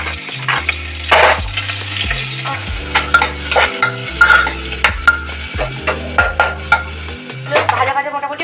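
Beans and carrots sizzle in hot white oil with whole garam masala and bay leaf while a spatula scrapes and stirs them in repeated strokes, with background music playing underneath.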